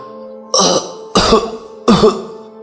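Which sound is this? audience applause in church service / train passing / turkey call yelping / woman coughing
woman coughing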